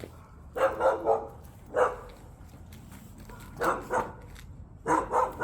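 Several dogs bark in short bursts a little way off, some yapping and some deeper barks, with pauses between the outbursts.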